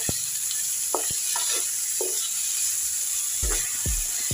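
Tomato and ginger sizzle in a pan for salmon sinigang, a steady hiss broken by several short scraping strokes of a spoon stirring, close and with no talk.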